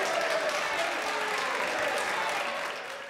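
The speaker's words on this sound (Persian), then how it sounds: "در نهایت آقای برکو در میان تشویق نمایندگان مخالف دولت راهی مجلس اعیان شد." Opposition members of the UK Parliament applaud in the chamber, a dense, steady clapping that fills the whole span and tapers off slightly at the end.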